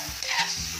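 Eggs frying in a pan for an egg steak dish with onion, a steady close sizzle with faint stirring, no voices.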